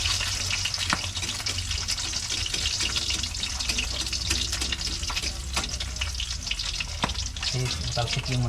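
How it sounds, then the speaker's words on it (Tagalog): Cooking oil spatters and sizzles steadily in a hot pan with salt just added, a loud continuous frying hiss with sharp pops and crackles, plus occasional clinks of stirring and a faint running tap. "Talsik yung mantika guys"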